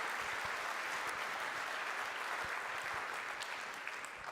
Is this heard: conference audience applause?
yes